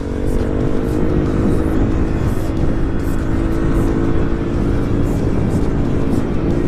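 A motorcycle fitted with a Qala Performance racing exhaust rumbles loud and close, a continuous throaty drone holding steady as it rides off.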